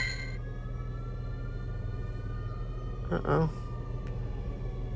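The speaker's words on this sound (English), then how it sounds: "Ambulance." An ambulance siren wails faintly in the distance as it passes, holding a steady tone over a low background rumble, while a voice briefly speaks near the end.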